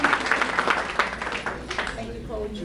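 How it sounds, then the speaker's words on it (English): Audience applause for the parents at a school district board meeting, a steady wash of clapping filling the room, with voices talking over it throughout. "you deserve a round of applause"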